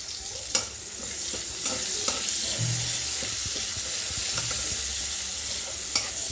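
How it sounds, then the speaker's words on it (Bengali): Onion frying for okra in hot oil, a steady sizzle with sharp clicks and scrapes of a spatula stirring the pan, close and alone with no talk. "আজকে ভেন্ডিটা আমি পুরোপুরি পেঁয়াজ দিয়ে ভাজা করবো।"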